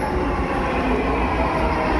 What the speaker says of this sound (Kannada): ಜಸ್ಟ್ ಮೆಟ್ರೋ ಬಂತು